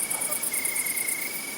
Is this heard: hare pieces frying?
no